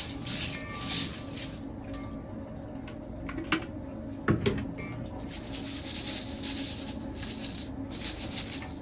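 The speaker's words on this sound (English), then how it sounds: "Shake it a little bit, try to get some water dripping from the bottom." Small hard Lego pieces rattle and clatter inside a jar of water in repeated shaking bursts, separated by short pauses with a few knocks.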